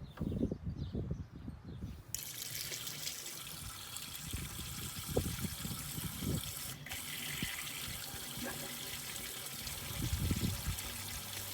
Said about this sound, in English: So let's fill up the radiator with water.